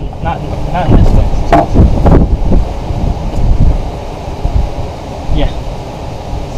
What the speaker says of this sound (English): it is getting ridiculously windy out here.